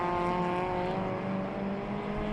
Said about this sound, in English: The Porsche V8 can be made to sound absolutely evil.